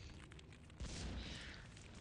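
A muffled boom from an explosion inside a ship in a video game swells partway through, dull and low, over a quiet, steady background with no speech.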